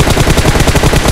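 Rapid automatic gunfire from a PUBG Mobile match, a steady burst of close, loud shots repeating quickly for the whole moment with no talk.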